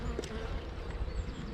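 Honeybees buzz steadily and closely during a spring hive inspection, forming a dense, continuous hum with no talk.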